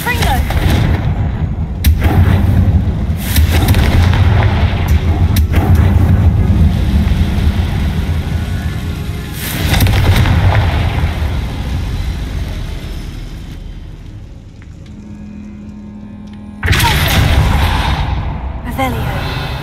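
Confringo, an explosive fire spell cast in Hogwarts Legacy, lands as loud repeated blasts with booming low rumble, several bursts spread across the stretch, with a speaking voice over parts of it.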